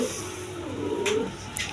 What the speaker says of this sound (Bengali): এখানে এক পেয়ার রেড কালার গররা কবুতর